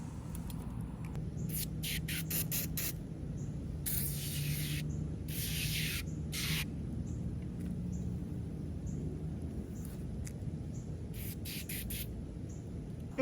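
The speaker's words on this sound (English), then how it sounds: "just a nice little spray like so" Simple Green bicycle cleaner and degreaser sprayed onto a bike near the bottom bracket, several short close hissing spray bursts in quick clusters over a low background hum.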